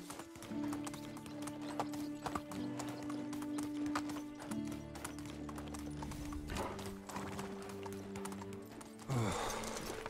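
Donkey hooves trot in a steady clip-clop through a Medieval Dynasty game scene, mid-loud under layered game music, with a brief louder burst near the end.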